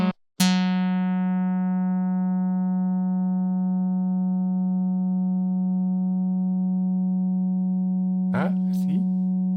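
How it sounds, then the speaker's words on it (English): Slightly detuned synth tone through the Odin2 comb filter: a steady, buzzy harmonic drone with a gentle wavering beat, starting after a short click, with a brief voice near the end. "I can hear a slight vibration. That means it is not perfectly tuned."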